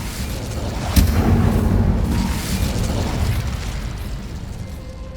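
An Incendio fire spell cast in the Hogwarts Legacy video game bursts with a sharp impact, then roars into a sustained, loud whooshing blaze that slowly fades over several seconds.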